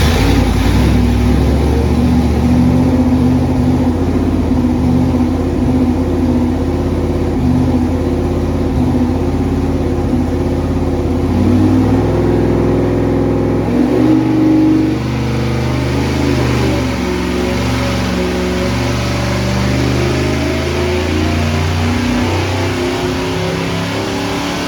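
Chevy 350 small-block V8 running hard on a dyno, a loud sustained roar that climbs and holds through the revs, with a dip and recovery partway before continuing strong to the end.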